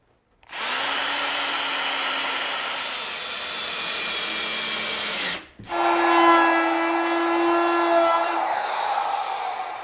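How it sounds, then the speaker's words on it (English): Router plowing a continuous groove in wood to receive biscuits, a loud high whine in two long passes with a brief stop between, close and alone. "Here I'm plowing out or routing a continuous groove to receive the biscuits."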